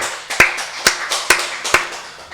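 A congregation claps together at a Wednesday worship service in a Full Gospel church, giving sharp, loud claps in a steady rhythm about twice per second, with softer claps scattered between the accented beats.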